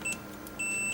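Two electronic tester beeps while checking an old Fultron amplifier under repair, steady high-pitched tones: a short one near the start and a longer one toward the end, over faint background hiss.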